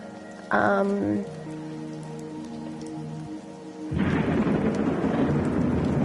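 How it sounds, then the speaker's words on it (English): Rain falls steadily on a surface in the video game The Gardens Between, with a burst of thunder early on and a denser, louder downpour taking over in the second half, heard alone without talk. "The controller vibrates when the thunder hits, by the way."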